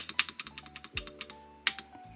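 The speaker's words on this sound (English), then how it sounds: "you know what we get to do with this keyboard?" Keys on a mechanical keyboard clack in a quick irregular run of sharp, close taps, some louder strokes standing out, over a faint background hum.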